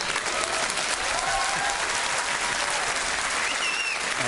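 Dense audience applause at a live talk event, many hands clapping together in a steady, loud, even roar that holds throughout.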